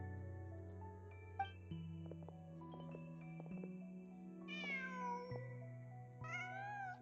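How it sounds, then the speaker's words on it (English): A cat in the video game Genshin Impact meows a few times in clear, close tones over a steady layer of game music, with no talking. "Just a cat."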